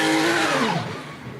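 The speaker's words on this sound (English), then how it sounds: "That was the Milner Motorsport Porsche leaving after an extended stop for a set of brake pads" A Porsche race car at the Dubai 24-hour race accelerates away from the pit lane after a stop, its engine note loud and close, then dropping in pitch and fading as it pulls away.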